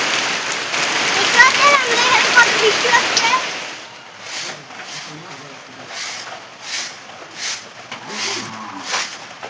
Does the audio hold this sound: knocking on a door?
no